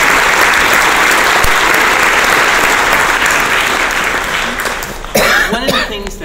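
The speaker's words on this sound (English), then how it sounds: "I'd like to have a nice round of applause for Cindy and all the teachers at the Stewart School of Music" An audience at a music school event applauding loudly and steadily for several seconds, the clapping thinning out near the end as a voice and a cough come through.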